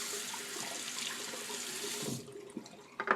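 Tap water runs steadily into a sink while a Williams DEvette safety razor is rinsed, close and quiet, then the flow cuts off, leaving a few small clinks and splashes.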